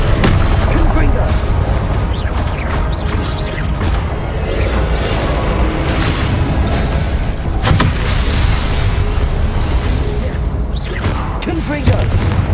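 Repeated Confringo blasting-spell explosions in Hogwarts Legacy boom out amid a chaotic battle, with several sharp blasts and whooshes scattered through a dense, loud mix, with a voice shouting spell names over the action.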